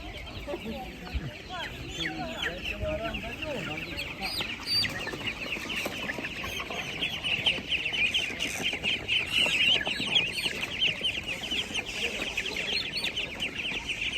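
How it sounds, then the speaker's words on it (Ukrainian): Chickens cluck repeatedly at a busy livestock market, close and fairly loud, mixed with other poultry calls and crowd chatter throughout. "Кури."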